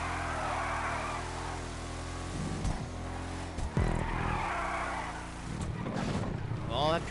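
A muscle car in GTA 5 Online skids and slides with screeching tire squeal and a revving engine, loud and close, the squeals coming in several bursts.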